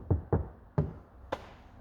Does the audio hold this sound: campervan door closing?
yes